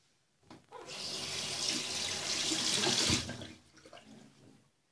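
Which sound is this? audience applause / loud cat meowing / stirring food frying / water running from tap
water running from tap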